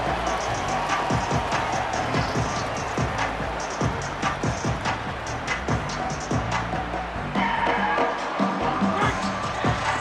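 A stadium crowd roars in a college football video game after a punt return, a broad sustained cheer dotted with sharp claps and shouts that holds steady throughout.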